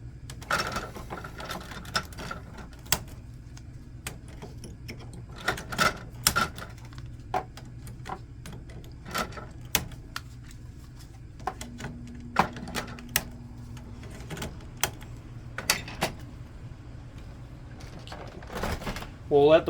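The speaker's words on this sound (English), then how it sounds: "We'll let the printer start up" A Canon Pixma MX722/MX922 printer starts up after ink cartridges are reinstalled, giving a series of scattered mechanical clicks, ratcheting taps and a brief motor hum over a quiet room, with a voice talking at points.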